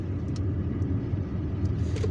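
Car driving through the streets of Algiers between Champ de Manoeuvre and Bab El Oued, a steady, close engine and road rumble with faint traffic noises above it.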